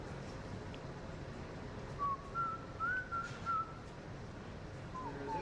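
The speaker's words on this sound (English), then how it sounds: "Melodic whistling." Someone whistles a short melodic tune, a few wavering notes over steady background noise, then a brief final phrase.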